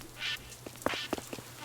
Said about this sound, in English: Decoy duck.